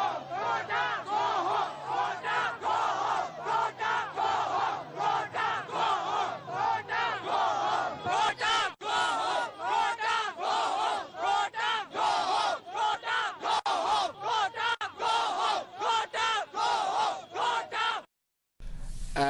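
A huge crowd cheers, shouts and yells continuously at Independence Square in Colombo, a loud, dense roar of voices with rhythmic chant-like surges that cuts off abruptly near the end.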